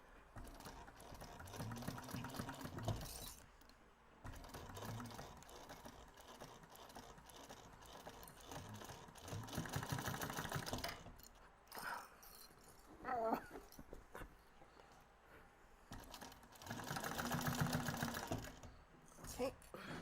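A sewing machine stitches a fabric beach bag, its motor whirring in repeated bursts with short pauses, close and fairly loud, with a dog whimpering and brief talk in between.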